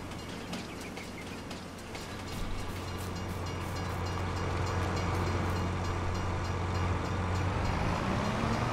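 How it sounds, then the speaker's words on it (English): A train rolls past in the video game Farming Simulator 22, a steady rumbling drone with metallic clatter and rhythmic wheel clicks that builds slightly louder as it passes, with no talking. "Here comes the train. Woo, that thing is moving."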